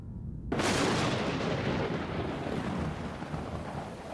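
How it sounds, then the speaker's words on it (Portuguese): A powerful thunderclap from a storm cracks in suddenly after a brief quiet, then rolls on as a loud, sustained rumble that slowly fades, with a hiss like heavy rain beneath it. "trovões ribombavam."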